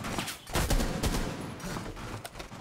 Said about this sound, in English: Yeah, no, they're shooting.